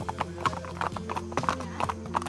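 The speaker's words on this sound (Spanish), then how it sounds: "Caballo corre mucho sin que yo se lo pida." Horse hooves clip-clop in a quick, steady rhythm, close by, with a low mechanical drone underneath, as a ridden horse runs in Cuetzalan, Puebla, Mexico.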